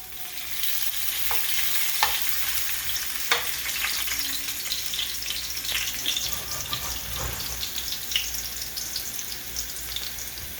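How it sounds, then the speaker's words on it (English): Garlic and whole cumin seeds frying in hot oil for dhal, a steady close sizzle and crackle running throughout with occasional sharper pops and faint stirring. "We gotta add the garlic and the whole jeera in the oil so it can fry."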